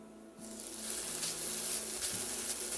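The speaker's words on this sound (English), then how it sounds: "We'll saute them for about a minute to allow them to flavor the oil" Minced garlic, grated ginger and green onion whites hit cooking oil over medium-low heat. A soft sizzle starts abruptly and swells into a steady, moderate hiss close by.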